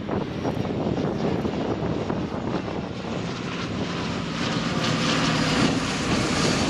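A transport helicopter passing at a Danish airshow in 2012 makes a steady, loud rotor and engine roar that fills the whole span. It holds even and continuous, with wind buffeting the microphone.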